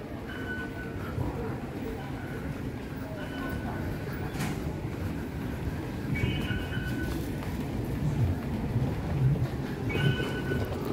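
A high-speed bullet train rumbles through a station in Taiwan, a long, steady, low roar with occasional high electronic tones and squeals layered over it.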